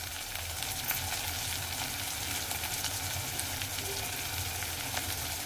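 Fresh green peas, coriander and mint go into a hot frying pan for tomato bath, and a steady, even sizzle of frying runs throughout with no talking.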